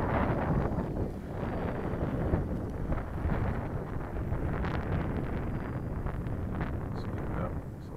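Steady wind buffets the microphone at an RC flying field, a constant loud low roar and rumble that holds for the whole stretch with no other sound standing out.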